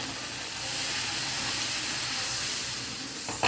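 Fermented watermelon dosa batter hits a hot pan and sizzles, a broad, steady hiss that holds for several seconds and swells slightly midway, with a faint knock at the very end.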